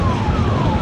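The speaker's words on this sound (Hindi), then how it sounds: "एम्बुलेंस जा रही है भाई, रास्ता दे दो, रास्ता दे दो, एम्बुलेंस को" An ambulance siren wails loud and steady over dense road traffic in Karnal, India, its tone sliding slowly downward as it passes through the busy noise of engines.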